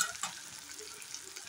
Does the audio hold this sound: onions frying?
yes